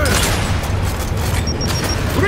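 A grenade blast in the video game Gears 5, a loud, dense rumbling boom filling the short moment, with mechanical clatter layered over it.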